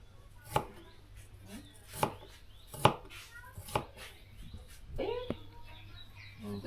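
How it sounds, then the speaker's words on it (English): A knife chops tomato on a cutting board with about six distinct, evenly spaced thuds, close and clear over a low background hum, with faint chatter in between. "and then cut the tomato"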